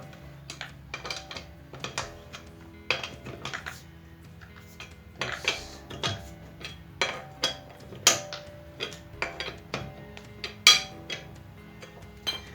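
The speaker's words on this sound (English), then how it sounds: "So just tighten until the end of the lug nut thread." Metal clicks and ratchet-like ticks come from tightening a car wheel lug nut during a sway bar link replacement, with sharp irregular taps and clatters, some close and fairly loud, scattered across a quiet background with no talking.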